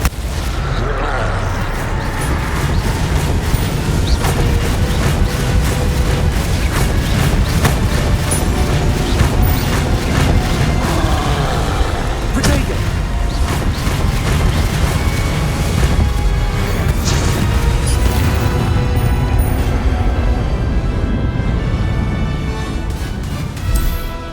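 Spell explosions from Bombarda and Confringo crash and boom through a dense, continuous battle in the video game Hogwarts Legacy, with repeated loud blasts and impacts layered over a steady roar of combat for the whole stretch.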